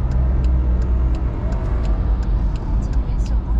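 Car driving on a road in Paris, a steady close engine and road rumble from inside the vehicle, with someone talking over it.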